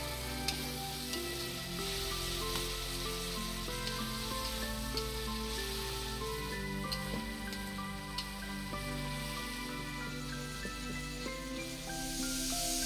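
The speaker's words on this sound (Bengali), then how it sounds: "কিছু সময় ধরে মশলা কষিয়ে নেওয়ার পর মাংসটি মশলার মধ্যে দিয়ে দেওয়া হচ্ছে।" Meat sizzles and crackles as it fries in spices in a pot over a wood fire, a dense continuous hiss with scattered pops and stirring scrapes, no speech heard.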